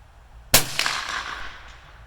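A single sharp rifle shot cracks out loud and close from a free-recoiling, unshouldered rifle fired at 200-yard steel targets, its report decaying over a second or two.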